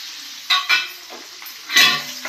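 Crushed garlic cloves hit hot tempering oil for a tomato pickle, giving bright bursts of frying sizzle with stirring, two quick flares early and a stronger one near the end, close and loud with no voices.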